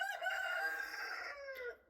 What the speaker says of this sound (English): I'm so sorry, those roosters.